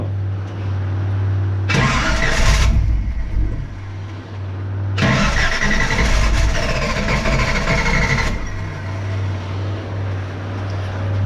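A V8-swapped Toyota Hilux is cranked with bursts of starter noise; the engine catches in short roaring spells between them, all under a steady low idle-like drone.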